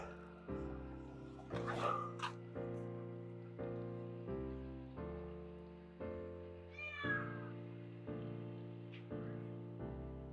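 A stray cat meows a few times in a room while loud music plays, the cries rising above the steady backing track.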